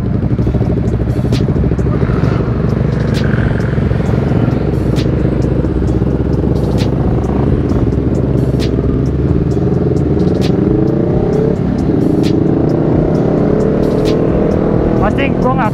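A Honda CBR 250 RR motorcycle riding at night, its engine droning loud and steady with rising and falling revs, heavy wind rumble, and a rider talking over it.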